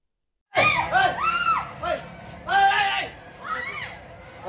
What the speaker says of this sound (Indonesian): Terdengar suara teriakan saat kejadian tersebut.